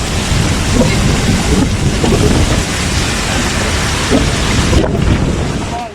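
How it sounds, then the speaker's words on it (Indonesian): A violent hailstorm in France pounds down as a loud, continuous broadband roar of falling ice and rain, with heavy low rumbles like thunder and wind buffeting throughout. "Hujan es dahsyat di Prancis"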